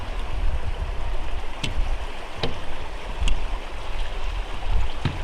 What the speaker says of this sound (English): The creek is running good